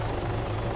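A Hummingbird helicopter in a military video game flies with a steady, loud rotor drone and engine hum, continuous and close throughout the brief moment.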